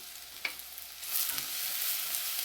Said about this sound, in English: So this has got to saute a little bit